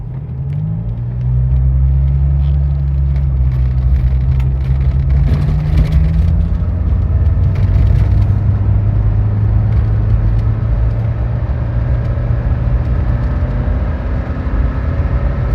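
A 1994 Saab 900 Turbo Convertible with an automatic transmission, warmed up, accelerates hard onto a freeway. Its engine swells into a loud, steady rumble and climbs in pitch, with wind and road noise building and no talking.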